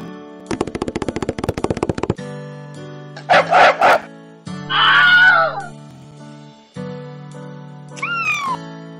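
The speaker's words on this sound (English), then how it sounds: "The dog barked at the ugly duckling" Cartoon dog barks at a duckling in short sharp bursts, mixed with rapid clicks, yelps and squawking cries, all close and clear against a quiet background.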